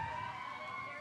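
A fire truck or ambulance siren wails along a street near a championship baseball game, a steady, moderately distant tone gliding slightly in pitch with faint crowd ambience underneath.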